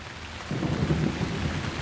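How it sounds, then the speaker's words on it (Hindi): Heavy rain pouring steadily with a low rumble of thunder rising partway through and continuing to the end. "काफी तेज बारिश हो रही है"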